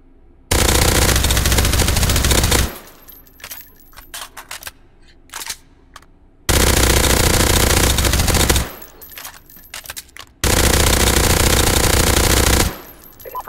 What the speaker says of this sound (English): So, we're now firing on fully automatic.